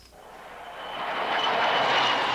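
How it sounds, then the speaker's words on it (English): Fighter planes flying over in missing wingman formation at a Gulf War memorial ceremony: a jet roar that swells from faint to loud as the aircraft approach, with no speech. "fighter planes passed over in the missing wingman formation to honor the men and women who died in the Gulf War"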